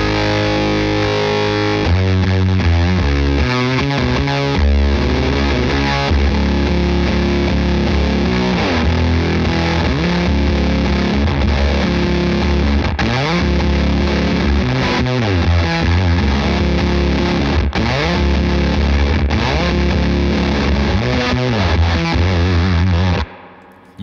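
Les Paul electric guitar driving a Keeley Fuzz Bender fuzz pedal, a continuous loud wall of heavily distorted riffing and sustained chords that cuts off abruptly at the end.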